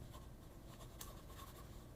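A Pelikan M1000 fountain pen filled with green ink scratches steadily across paper, a soft continuous nib scratch with faint strokes, close and quiet, with no talking.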